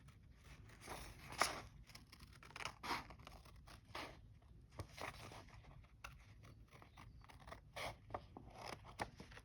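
Scissors snip through a thin craft piece for a snail and mushroom project, giving faint, irregular crisp cuts and scrapes in an otherwise quiet room.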